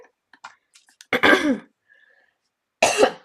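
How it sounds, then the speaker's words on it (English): A woman gives a couple of short morning coughs, one near the middle and another at the end, set against faint clicks and quiet room sound. "A little morning cough out of there again."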